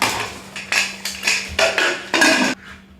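Knife chopping onions and tomatoes in a home kitchen in Mauritius: a series of irregular, close clattering cuts and knocks on a board, loud bursts with short gaps, no talk.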